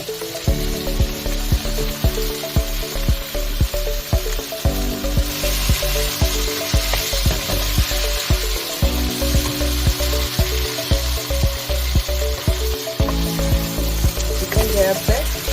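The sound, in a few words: chicken sizzling and being mixed in pan with tomato ketchup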